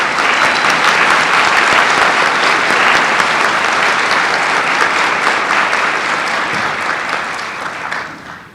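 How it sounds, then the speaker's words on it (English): Sustained applause from a commencement ceremony audience, loud and dense, steady for several seconds before thinning out toward the end. "Let's give them a round of applause of recognition."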